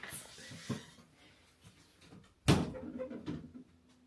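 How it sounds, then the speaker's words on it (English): A cat scratches and bumps against an indoor door, giving a few soft knocks and then a louder rasping burst that fades in a quiet room. "my cat is scratching on the door"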